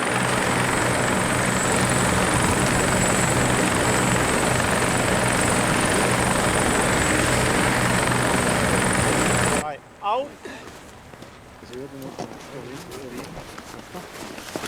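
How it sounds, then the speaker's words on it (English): Helicopter flying during an accident rescue, a steady loud rotor and engine roar filling the first ten seconds, then cutting abruptly to a quieter scene with voices. "The best way is by helicopter."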